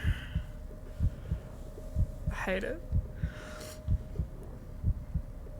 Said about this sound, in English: Heartbeat thing gets me every time, I know.